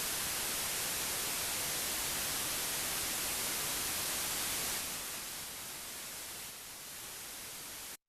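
Steady, loud white noise made by many tones sounding together, a flat even hiss that thins slightly partway through and then cuts off abruptly at the end.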